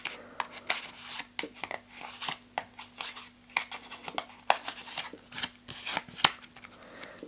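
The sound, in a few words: shuffling and shaking a deck of playing cards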